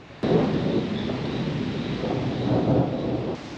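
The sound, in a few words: thunder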